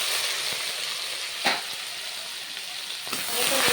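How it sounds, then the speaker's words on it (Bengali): Panch phoron spices crackle as they hit hot oil in a heated wok. A steady, close sizzle hisses throughout, with a few sharp pops and clinks along the way. "কড়া গরম হয়ে গেছে, দিয়ে দেবো তেল, ফোড়ন দিয়ে দেবো, পাঁচফোড়ন"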